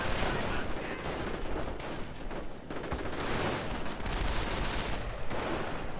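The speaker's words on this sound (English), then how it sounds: "MG42 covering the German infantry as they charge at this position" Sustained MG42 machine gun fire in a World War II strategy game battle, a dense continuous burst of gunfire with other shots layered in, loud and unbroken for several seconds.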